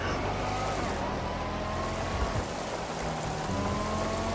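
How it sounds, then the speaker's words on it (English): Rain falling in GTA V Online, a steady hissing patter mixed with a car engine hum and shifting tones, continuous throughout. "Oh great, it's raining."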